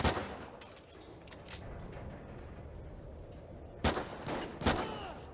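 Pistol cover fire in Call of Duty Ghosts during a 4v4 Search and Destroy finals match: a few quiet, scattered pops, then two sharp, louder shots close together near the end.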